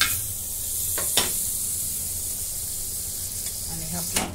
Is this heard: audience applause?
no